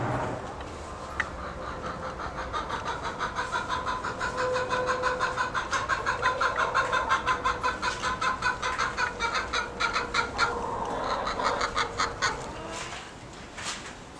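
Chickens cluck inside a chicken coop in a rapid, pulsing chorus that holds steady for several seconds, with a brief, sharper squawk near the start and a faint background hum beneath.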